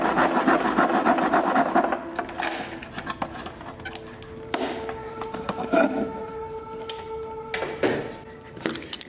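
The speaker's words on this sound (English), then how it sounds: "we're going to cut a piece there so that we're going to get a notch out of that" A hand saw cuts a notch into a wooden stick, its rasping strokes dense and rhythmic at first, then giving way to scattered scrapes and knocks, close and fairly quiet.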